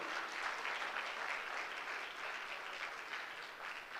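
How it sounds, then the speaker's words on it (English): Loud, sustained applause from a graduation ceremony audience fills the hall after a lecturer is introduced. The clapping stays dense and steady throughout, with no pauses. "Another resounding round of applause for him."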